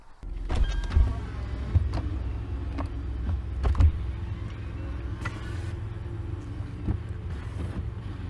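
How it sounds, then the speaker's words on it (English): A Lexus SC430 convertible lowers its folding hard top, a steady low electric motor hum running for several seconds with clicks and mechanical clunks as the roof panels move and latch, heard close with no talking. "I'll put the top down"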